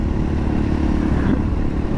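A motorbike in sixth gear with its throttle being played holds a loud, steady engine drone close to the microphone, with a slight rise in pitch partway through and no talk.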